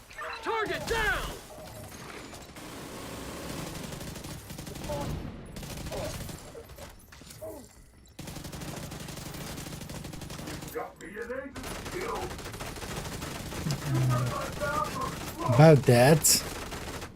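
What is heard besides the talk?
gunfire in a video game (The Division)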